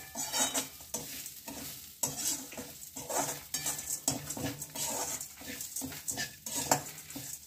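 Groundnut rice ingredients roasting dry in a pan, a steady scraping stir with light sizzling and clinks of a metal spoon against the pan, close and continuous with no talk.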